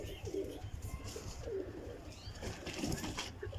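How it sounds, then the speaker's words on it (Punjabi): Pigeons coo softly and steadily, a low repeated murmur close by; one is a mottled, net-patterned flying pigeon in fresh new feathers being let go from the hand, with faint chirps mixed in. "ਮਿੱਸੇ ਜਾਲਦਾਰ ਕਬੂਤਰ ਨਵੇਂ ਪਰਾਂ 'ਚ ਤਿਆਰ ਹੋਈ ਹੈ ਮਾਸ਼ਾਅੱਲਾ"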